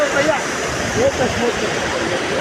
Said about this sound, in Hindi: बर्फ़ के नीचे से पानी जाता है